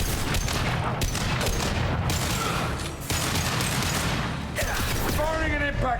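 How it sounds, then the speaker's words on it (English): Sustained gunfire and explosive booms from combat in the video game Mass Effect Legendary Edition, a dense continuous barrage of shots at steady loudness, with some mechanical clatter and a voice in the mix. "Firing an impact shot."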